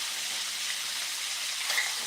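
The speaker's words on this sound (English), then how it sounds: "I'm very rusty at deep frying because I haven't deep fried something like this since last winter" Chicken strips deep-frying in hot oil give a steady, close, hissing sizzle that holds evenly throughout without pause.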